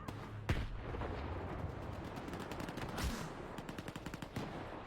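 Rapid machine-gun fire rattles in a video game shootout, dense bursts and sharp shots in quick succession, fairly loud, with no talking.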